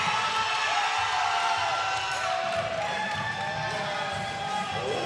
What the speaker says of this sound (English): Pro Cyclones crowd happy about that finish.